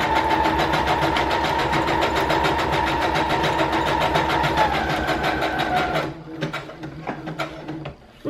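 A sewing machine stitches a decorative swirly pattern with thick orange thread, running as a steady, fast mechanical whir with a rapid rhythmic needle clatter for about six seconds, then stopping into a few faint clicks and knocks.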